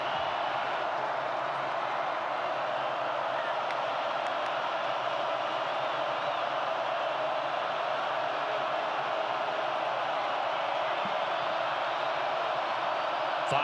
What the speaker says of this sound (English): now we're seeing the crowd at Carter Finley make noise.